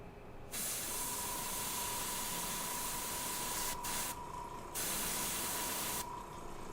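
An airbrush loaded with acetone sprays in long, steady bursts of loud hissing. The spray cuts off briefly between passes, and a faint tone rings beneath the hiss. No one speaks.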